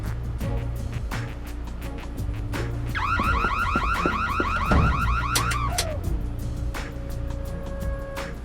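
Electronic alarm in the video game Nancy Drew: Secrets Can Kill, a loud wailing, warbling siren with rapid pulsing tones that shift pitch in cycles, sounding alone and continuous with no voices.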